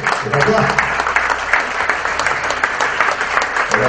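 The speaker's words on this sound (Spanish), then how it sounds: "El aplauso para el señor," A crowd at a raffle for a new Renault car in Río Gallegos, Santa Cruz, claps loudly for the winner, dense continuous applause filling the space, with voices mixed in underneath.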